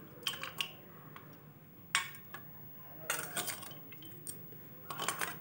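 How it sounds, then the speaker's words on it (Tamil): A metal utensil stirring and scraping Burmese atho ingredients in a dish, irregular clinks and scrapes in short bursts over a low background hum, close but quiet. "நல்லா எல்லாத்தையும் சேர்த்து நல்லா கிண்டி விட்டுக்கணும்."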